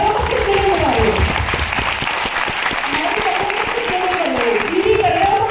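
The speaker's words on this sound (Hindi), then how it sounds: "ताली बजा रहे हो तो खुद के लिए बजा रहे हो" An audience at a direct-selling motivational event claps steadily throughout, a dense, sustained round of applause with a voice speaking over it.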